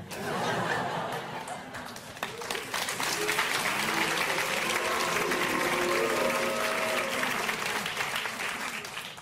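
Sustained audience applause fills the room, steady clapping from a crowd with scattered laughter and murmurs mixed in.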